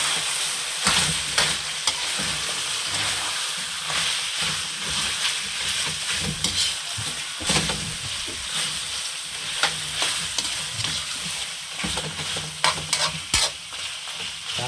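Pork ribs fry in a pan while being stirred, with constant bright sizzling, steamy hiss, and repeated scraping and clacking strokes of a utensil close up.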